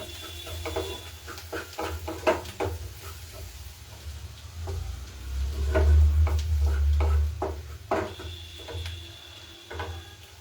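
Mushrooms with chopped garlic frying in butter until golden brown, a steady close sizzle with scattered ticks and scrapes of stirring, no talking.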